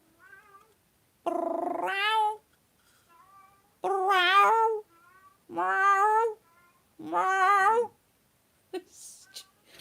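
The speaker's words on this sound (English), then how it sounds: "Stupid cat." A talkative house cat meows loudly and close by, four drawn-out harmonic calls in a row with short pauses between, plus a brief faint sound at the end.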